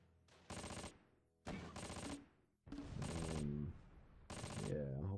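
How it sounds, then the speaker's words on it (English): Achilles tank destroyer and other weapons firing in Close Combat: The Longest Day on Sword Beach, four separate loud bursts of rattling gunfire with gaps between them, and voices in the later bursts. "The Achilles is now firing back"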